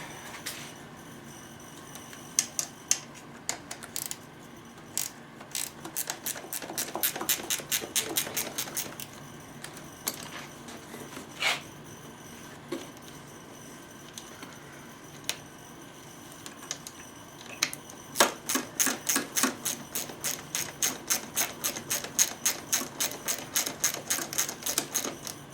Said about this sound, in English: 10mm wrench.